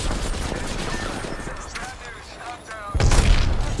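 Rapid bursts of gunfire in a shooter video game crackle and boom close up, mixed with game effects and a player talking over the shots.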